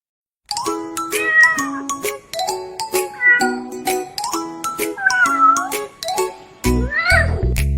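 A cartoon-style cat meows repeatedly in short, rising and falling cries over bright chiming music, with a heavier jangling burst near the end.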